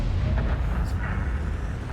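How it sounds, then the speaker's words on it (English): An artillery shell strikes a tank in a tank battle video game, a heavy rumbling boom over dense low-end noise that fills the moment, loud and close, with game sounds underneath. "The artillery took out the 212A, took the guy out."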